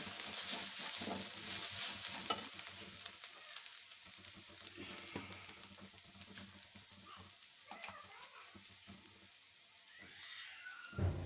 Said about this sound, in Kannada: ಅರ್ಧ ಟೀ ಸ್ಪೂನ್ ಅಷ್ಟು ಬಂದು ಜೀರಾ ಪುಡಿ, ಇಷ್ಟನ್ನು ಹಾಕಿ ಫ್ರೈ ಮಾಡಿ